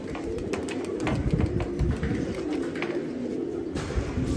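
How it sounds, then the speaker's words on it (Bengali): Giribaz pigeons coo and flutter after being released, a dense mix of soft cooing and bird calls heard fairly close against steady outdoor noise, with no talk. "কবুতর গুলো উড়ালো, খুব ভাল লাগতেছে দেখে"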